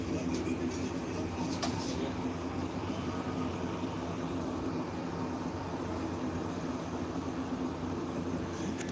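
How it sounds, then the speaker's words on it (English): A train passing beyond a tree line: a steady, broad rumbling roar of wheels and cars, fairly faint and distant, with a couple of brief higher clicks early on and no talk. "Train is going by right through the tree."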